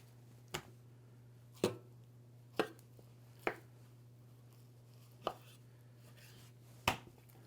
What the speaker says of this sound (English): we're going to separate that hidden tenderloin from that rectangle steak